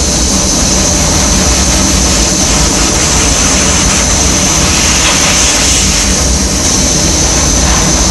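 Dry nitrogen blasts water droplets off a wafer surface, a loud, steady, broadband hiss of rushing gas close by that holds evenly throughout, with no talking.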